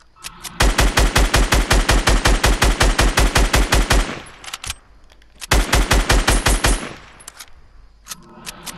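Rapid automatic gunfire in Fortnite, a long loud burst of evenly spaced shots followed after a pause by a second shorter burst, close and dominant with no talk.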